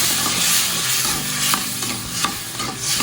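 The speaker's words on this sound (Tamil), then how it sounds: "அதை ஊற்றி நல்லா கொதித்து கெட்டியாக வரணும்" A thick gravy of boiled yam, tamarind, salt and chilli powder bubbles in a pan, giving a close, steady sizzling hiss with soft stirring scrapes throughout.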